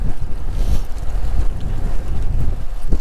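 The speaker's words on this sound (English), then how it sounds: "I'm cycling into a horrible headwind. Whoa! Very windy" Strong headwind buffets the microphone while cycling downhill on Usui Pass, Japan, a continuous low roar, gusting and rumbling loudly throughout with no voices.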